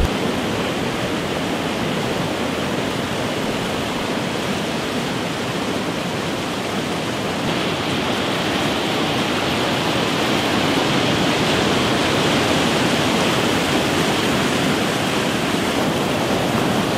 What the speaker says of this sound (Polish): A teraz właśnie dojechałem do tego wodospadu, który wam pokazywałem z tej zapory wodnej.